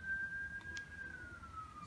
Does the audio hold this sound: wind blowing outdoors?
no